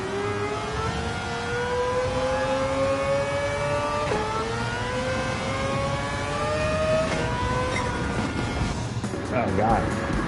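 An engine-swapped Mazda RX-7 in Gran Turismo 7 revs hard as it accelerates, its rising whine climbing steadily with a brief dip for a gear change, loud and continuous.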